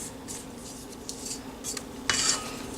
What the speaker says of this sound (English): We'll just scrape it down a little bit.